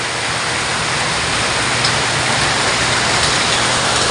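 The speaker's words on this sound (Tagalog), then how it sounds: "Ayan na ang ulan." Heavy rain pours steadily in a dense, continuous hiss, close and loud, with no voices.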